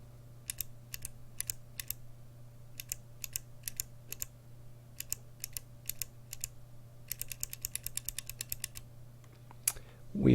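Clicky Gateron blue switches on a mechanical keyboard clatter in short bursts of crisp, close keystrokes over a low steady hum, ending in a quick flurry and a louder thump.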